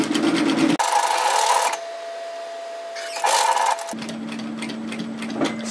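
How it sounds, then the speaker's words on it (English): A sewing machine stitches a pocket onto a shacket in short bursts, with rapid needle chatter alternating with pauses where the motor hums quietly between runs. "So just take your time and sew that on."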